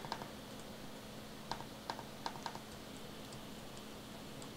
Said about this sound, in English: sorry if you hear some trackpad noises going on deck there